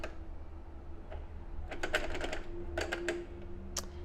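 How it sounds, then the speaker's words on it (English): Quiet, short bursts of rapid mechanical clatter from a sewing machine running a straight stitch, broken by brief pauses between runs. "I'm just going to set the machine to straight stitch"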